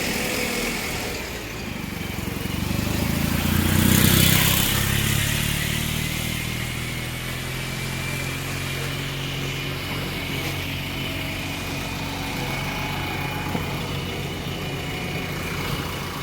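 Traffic pulls away on a reopened road after a fallen tree was cleared, an ST bus among the vehicles, with an engine rumble swelling near the start, then a steady, moderately loud drone of passing cars and bikes.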